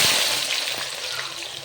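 Marinated meat with cloves, cumin and bay leaf fries for biryani, producing a bright, dense, close sizzle that holds steady throughout the short stretch.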